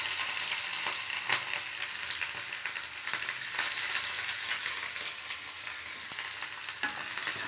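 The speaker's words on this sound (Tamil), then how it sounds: "நல்லா ப்ரௌன் கலரில் வதக்கும்" Onions and curry leaves fry until brown, a dense continuous close sizzle with occasional faint stirring scrapes and clicks throughout.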